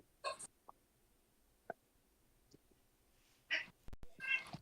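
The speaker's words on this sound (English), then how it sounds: "That's the dog and the cat fighting." A cat yowls while fighting a dog, heard faint and distant as scattered short cries and clicks separated by quiet gaps.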